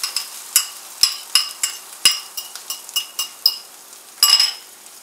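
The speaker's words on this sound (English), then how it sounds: "now I'm going to put in my eggs" Eggs go into a pan of chorizo over lowered heat and get stirred, giving a run of sharp utensil clinks and scrapes against the pan at an irregular, fairly quick pace, close and clear with no talking.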